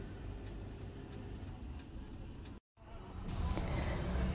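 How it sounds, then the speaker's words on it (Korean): A van is driven along on a house move, giving a steady low road rumble and engine drone heard from inside the vehicle, with a brief cut partway through and a louder stretch near the end. "남편은 직접 밴을 운전하고 있어요"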